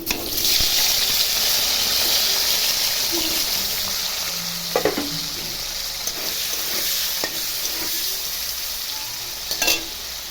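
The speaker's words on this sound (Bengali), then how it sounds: "কড়াইয়ে তেল দিয়ে দিয়েছি, পনিরটা ভেজে নিচ্ছি" Paneer fries in hot oil in a wok, a loud continuous sizzle with occasional stirring clatters and small pops throughout.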